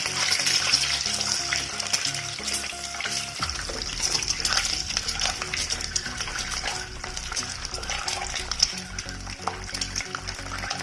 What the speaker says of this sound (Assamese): কণীখিনি মই ল' ফ্লেমত ফ্ৰাই কৰি লৈছোঁ।